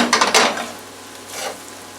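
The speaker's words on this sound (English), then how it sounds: "I'm going to push all the potatoes, as you can see, to one side." Fried potatoes for a sirloin steak hash are scraped and shoved to one side of a sizzling frying pan, two short bursts of utensil scraping over a low steady sizzle.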